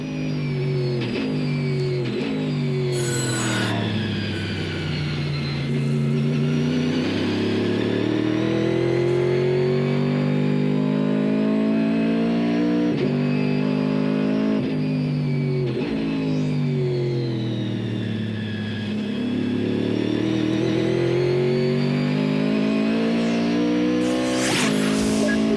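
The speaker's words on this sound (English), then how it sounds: "Let's ride with Andy for a moment, and let's listen to this Cadillac." A Cadillac race car in a 2004 World Challenge GT race at Sebring, heard from inside the cockpit: the engine roars loud and close, rising and falling through gear changes and revs for the whole stretch, with no talking.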